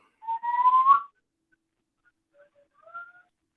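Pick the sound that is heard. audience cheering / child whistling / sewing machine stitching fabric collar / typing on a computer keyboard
child whistling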